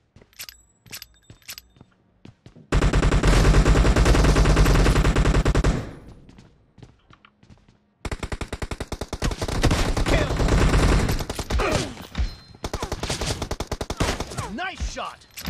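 Gunfire in the mobile battle-royale game PUBG Mobile: loud bursts of rapid automatic fire, a long sustained volley, a short pause, then another dense string of shots with scattered single cracks.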